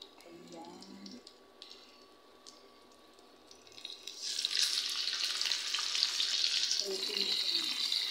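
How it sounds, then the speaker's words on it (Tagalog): Chicken liver hits hot oil in a pan and breaks into a loud, steady sizzle that carries on to the end, while a voice speaks briefly at the start and again near the finish. "i-prito ko muna ang atay. Yan, atay ng manok."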